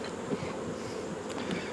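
Honeybees buzz in a dense, steady swarm hum during a late-summer hive inspection, close and continuous, with no talking.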